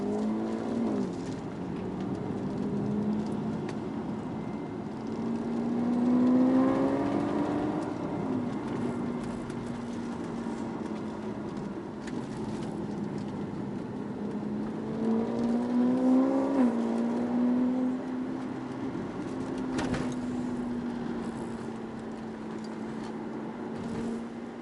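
A car's engine drones steadily at low speed through a speed bump zone, the hum dipping and rising in pitch twice as it slows and pulls away, fairly faint and without talk.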